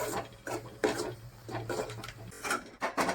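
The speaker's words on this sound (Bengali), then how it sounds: "চালের গুঁড়ি দেব আর খুন্তিতে মাখতে হবে, দিতে নাড়তে হবে।" A spatula stirring dry rice flour into hot boiled water in a pot for modak dough, making repeated scraping and knocking strokes in an uneven rhythm, close and fairly clear, with no voices.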